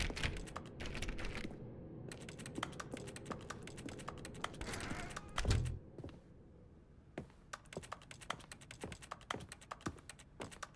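Computer keyboard clatter in The Stanley Parable: Ultra Deluxe, with bursts of rapid typing and sharp key taps throughout, loud and close, pausing briefly before sparser individual keystrokes resume.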